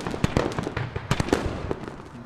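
Explosions in a war video game, a run of sharp, crackling blasts at mid distance, several bursts in irregular succession over a dense rumbling battle din, with no voices.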